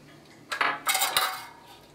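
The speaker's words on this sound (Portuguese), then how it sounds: "e mexer assim com a espátula," A spatula scrapes and knocks against a bowl while yeast is stirred into warm water for homemade bread dough, a few close clinks and scrapes in quick succession with no talking.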